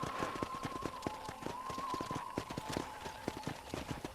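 Rhythmic clip-clop of horse hooves trotting at a steady pace in the video game Red Dead Redemption, crisp repeated clicks over a faint constant hum.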